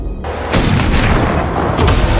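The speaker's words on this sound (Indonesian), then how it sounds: "sekarang ada satu penembak jitu lagi, yaitu teman dari John" A sniper rifle shot from an action film rings out as a loud, deep boom with a heavy low rumble, followed by a second sharp blast near the end, with no talking.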